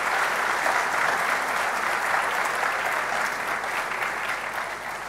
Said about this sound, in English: She deserves a round of applause for this great achievement.